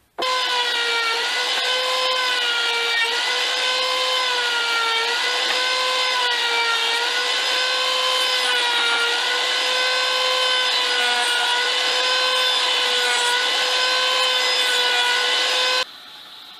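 A loud, steady high-pitched whine of a power tool rounding over wood edges on trophies, running continuously before stopping abruptly near the end.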